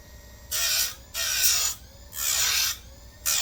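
A hand file sharpens a Husqvarna 357XP chainsaw chain in four even, close rasping strokes, each about half a second long, with short quiet gaps between them.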